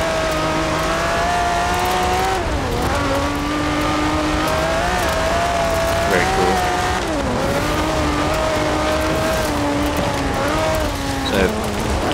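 A stock 1968 Ferrari 365 GTB/4 in Forza Horizon 4 drives hard with its engine droning and rising, then drops in pitch as it brakes. A short tire squeal sounds as it slows. The engine runs loud and steady throughout.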